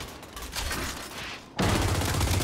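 Sustained bursts of gunfire in the Gears 5 video game during a Horde match, rattling continuously and growing louder and denser after a brief dip, with no talk.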